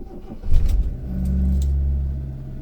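A car engine cranks briefly and catches, then settles into a low, steady idle hum.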